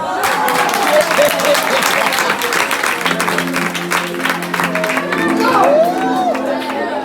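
An audience at a French-language teaching debate on marriage claps and cheers, a dense, sustained wash of applause with whoops that carries on for several seconds while a voice talks over it.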